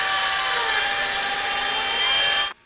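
Power tool carving into a block of ice for an ice sculpture, giving a loud, steady, high-pitched grinding whine that holds for a couple of seconds before cutting off abruptly.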